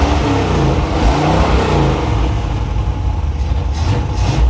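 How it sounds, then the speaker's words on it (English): A 1977 Chevy Monte Carlo engine revs steadily and loudly up close, its throaty drone holding almost unbroken for several seconds. "Give it some rev, see if the fuel runs out."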